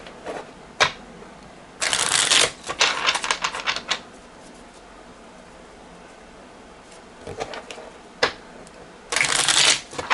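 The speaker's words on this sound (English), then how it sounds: "So it shuffles nice." A stiff new US Games playing card deck is riffle-shuffled up close, with two loud buzzing bursts of riffling, quick snaps and clicks between them, and a quieter stretch in the middle.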